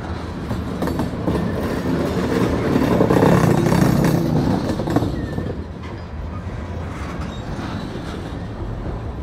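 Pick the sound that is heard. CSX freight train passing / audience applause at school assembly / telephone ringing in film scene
CSX freight train passing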